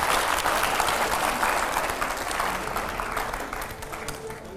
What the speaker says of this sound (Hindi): जोरदार तालियां हो पहले तो एकदम।